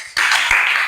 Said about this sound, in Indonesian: Baik, tepuk tangan untuk kelompok